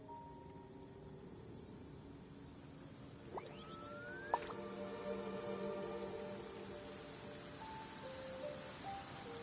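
Rain falls steadily in the game Genshin Impact, a soft continuous hiss with faint game tones and a couple of brief chimes layered over it.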